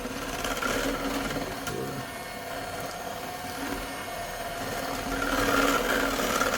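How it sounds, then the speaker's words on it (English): An electric stand mixer whisks a mixture that thickens as it beats, giving a steady, moderately loud motor whir with a faint rattle that swells slightly near the end. "if you also have a stand mixer, you can put it in there as well"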